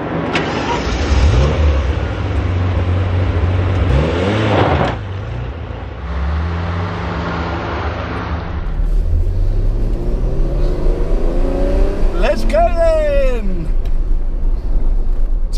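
Ferrari Testarossa with a 380 bhp flat-12 mounted behind the cabin, pulling hard on tight country roads: loud rising revs through several gear changes, a short dip between pulls, then climbing again, with occasional voices faintly underneath.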